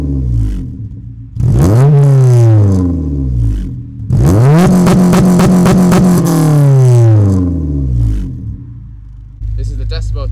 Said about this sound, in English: This is the decibel test for the spoon exhaust without the bung in.